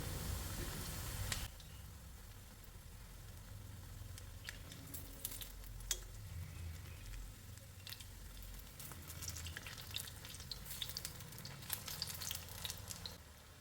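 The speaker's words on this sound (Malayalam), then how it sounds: "രണ്ട് സൈഡും നല്ലപോലെ മൊരിഞ്ഞ് ഇതേപോലെ ഗോൾഡൻ കളറാകുമ്പോൾ എടുക്കുക" Leftover rice vada deep-fries in coconut oil with a soft, even sizzle and scattered small pops and crackles, heard quietly after a brief louder burst at the start, with no speech.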